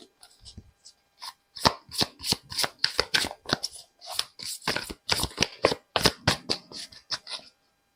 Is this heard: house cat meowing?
no